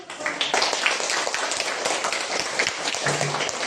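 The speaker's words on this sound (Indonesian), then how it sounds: "Ya, tepuk tangan." A classroom of students claps together in a loud, dense burst of applause that keeps going evenly throughout.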